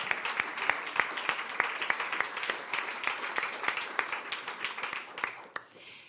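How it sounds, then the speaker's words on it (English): An audience at a tourism panel of a strategic forum applauding the panelists, steady moderate clapping throughout that fades slightly at the end. "a big round of applause and a big thank you to Dr. Peter Vosner and all our amazing panelists"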